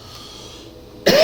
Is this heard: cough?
yes